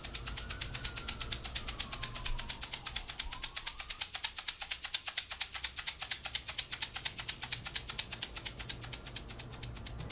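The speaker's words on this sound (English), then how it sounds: "Then I start the rattling. And I rattle at a very consistent rate." A shamanic rattle is shaken at a very even, fast rhythm of crisp, close clicks that continue without a break, with no voices.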